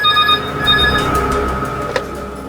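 Telephone ringing indoors, a bright repeated electronic ring tone for about two seconds before fading, with a faint click near the end.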